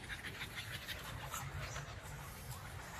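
A lilac merle American Bully female pants steadily and close by, with quick rhythmic breaths and no talking.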